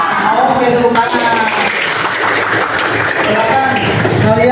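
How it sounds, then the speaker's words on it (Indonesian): A classroom of vocational high school students claps in unison, a steady wash of applause from the whole room close by with some voices mixed in. "Oke, tepuk tangan."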